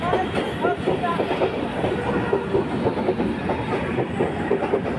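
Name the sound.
train departing over Bally bridge towards Dankuni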